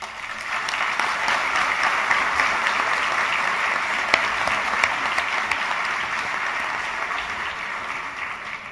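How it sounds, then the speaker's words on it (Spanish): Warm applause from a luncheon audience welcoming a guest economist speaker, steady dense clapping that fills the whole stretch at an even level with no voices on top. "para recibirlo con un cálido aplauso"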